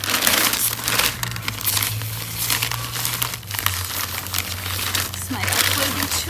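Potting soil poured from a plastic bag into a wheelbarrow planter, a steady crinkling, rustling pour of dry bagged mix with plastic crumpling over a low steady hum, continuous and close.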